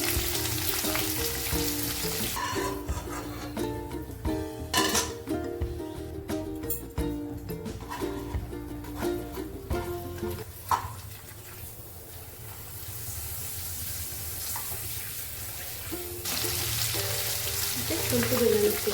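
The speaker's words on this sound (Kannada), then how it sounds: "ಈರುಳ್ಳಿ ಹಾಕಿ ಫ್ರೈ ಮಾಡಿ." Onions with curry leaves frying in a pan for lemon rice, a continuous hiss and crackle beneath background music, the sizzle standing alone for a stretch in the middle.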